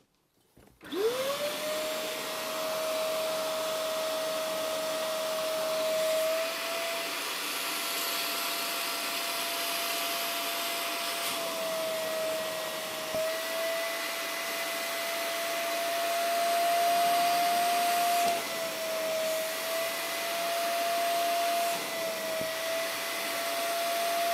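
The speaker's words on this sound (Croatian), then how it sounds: "Vidite kako on ubacuje vodu i odmah je skuplja." A SilverCrest SPR 800 A1 wet carpet vacuum cleaner runs while spraying and sucking water from upholstery or carpet. Its steady, loud motor whine and airy rush continue unbroken, with no talk.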